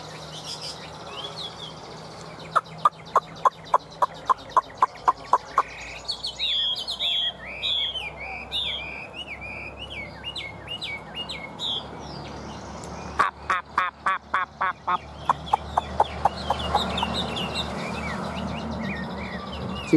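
A Chinese hwamei songbird, an old wild-caught fighting bird, sings loudly and close, mixing rapid repeated staccato notes with warbling whistled phrases over about twenty seconds.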